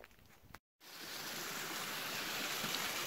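Steady broadband rush of falling water at a waterfall on a hiking trail, loud and continuous after a brief silent gap at the start, with no voices.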